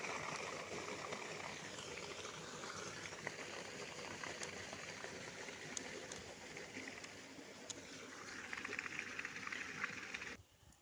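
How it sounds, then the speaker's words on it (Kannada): Water rushing from an opened gate valve into drip irrigation lines for an ivy gourd plot, a steady hissing, bubbling flow close by with faint birds in the background. "ಈಗ ಬಂದು ತೊಂಡೆ ಗಿಡ ತೋಟಕ್ಕೆ ನೀರು ಬಿಟ್ಟಿದ್ದೀನಿ ಡ್ರಿಪ್ಗೆ."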